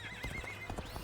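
A horse in the video game Dynasty Warriors Origins gives a short, quiet whinny with a wavering pitch, with soft hoof clops underneath, lasting about a second.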